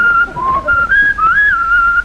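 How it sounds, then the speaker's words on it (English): A man whistles a clear, loud melody from Ride of the Valkyries, sustained piercing notes with rising and falling slides, close and alone. "You want to see his ears go up when I whistles the ride of the Valkyrie."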